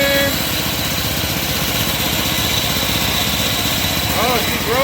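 A go-kart's Predator 224 engine runs at a steady, buzzing idle close by, with a continuous rough drone and no clear changes in pace.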